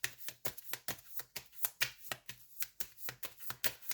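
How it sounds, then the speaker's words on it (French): Tarot cards being shuffled by hand, a steady run of quick papery riffles and slaps about every quarter second, close and fairly soft with no voices. "Je vais tirer une autre carte pour voir."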